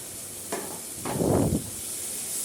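Coriander leaves and mint sautéing for egg biryani give a soft sizzle and steady hiss, with brief stirring scrapes and a louder swell of frying in the middle.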